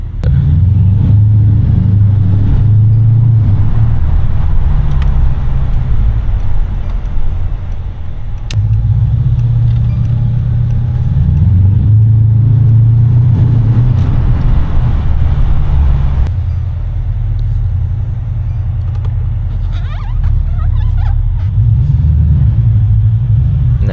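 A car engine and exhaust in sport mode, loud and close, droning steadily with a few swells in revs over the whole stretch, no talking.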